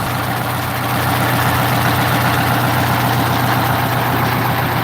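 A truck engine idling nearby, a loud, steady low rumble with an even mechanical throb that holds constant throughout, no voices.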